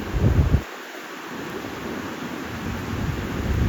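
Heavy rain drums on a diesel railcar train moving at speed, a loud, steady rushing roar with a brief low rumble at the very start and no voices.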